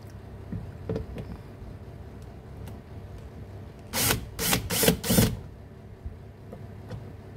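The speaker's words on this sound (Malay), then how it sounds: "Sekarang ni saya nak buka dia punya door trim tu" Plastic door trim panel being removed from a Perodua Axia car door, heard as a cluster of four sharp loud clicks and snaps in quick succession, preceded by softer scattered taps and handling noises, with no talking.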